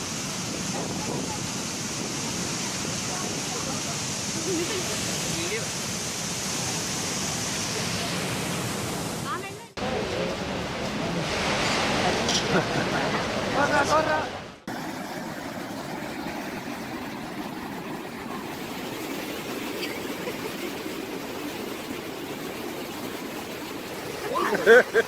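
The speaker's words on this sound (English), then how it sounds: "Excessive downpour of rain in South India resulted in a massively wild waterfall." A wild waterfall swollen by heavy rain in South India roars continuously in a loud, broadband rush, with brief cuts between segments.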